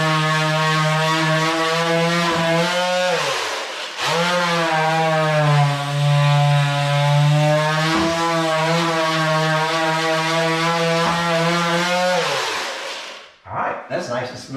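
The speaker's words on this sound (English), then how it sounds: "I'm using this little handy dandy mouse from Black & Decker." A small Black & Decker mouse detail sander smooths a patch on a spa tub access panel, whining loudly and steadily in long runs that pause briefly and shift pitch as the pressure changes, then stop near the end.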